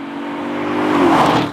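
Audi RS5 B8.5 with a naturally aspirated V8 revving up, a loud, close engine note climbing steadily in pitch and volume over about a second and a half, then easing slightly at the end.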